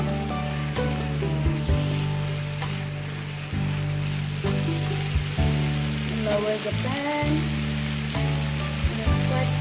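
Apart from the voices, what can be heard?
chickpea water added to sizzling spices in pan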